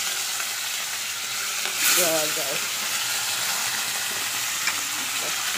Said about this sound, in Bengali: ছোটো ছোটো করে ভাজা হচ্ছে বড় বড় মাছ